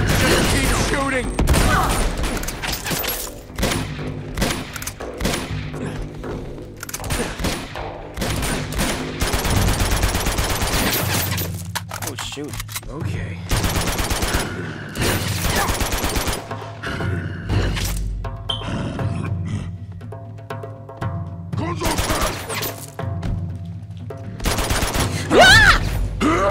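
Gunfire in Uncharted 2: Among Thieves, dense and loud throughout, with rapid automatic bursts and scattered single shots mixed with impacts, under and between spoken game dialogue.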